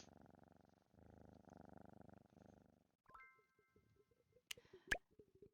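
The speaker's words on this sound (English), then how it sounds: "And they purr." A cat in the vampire cozy video game Moonlight Peaks purrs in soft, rhythmic pulses for about three seconds, then scattered taps and plinks of game sound effects follow.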